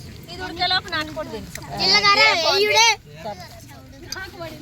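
A goat at the Medaram jatara festival gives one loud, wavering bleat close by, with people talking before and after it.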